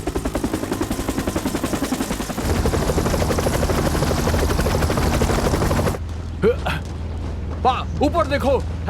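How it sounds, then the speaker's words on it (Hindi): A helicopter in an action-adventure movie scene approaches with loud, rapid rotor chopping that swells midway, then drops under urgent shouted dialogue as the rotor drone carries on beneath. "ऊपर देखो, हेलीकॉप्टर आ रहा है,"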